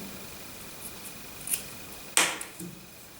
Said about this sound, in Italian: prenderemo le forbici e taglieremo i fili